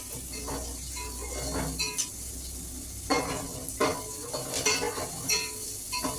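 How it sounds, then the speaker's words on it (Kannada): Rava being stirred with a ladle in a pan over a low flame, with steady soft scraping strokes and a faint sizzle underneath, plus a few sharper clinks of the ladle against the pan. "ಸೌಟಲ್ಲಿ ಕೈ ಆಡಿಸ್ತಾ ಇರಬೇಕು."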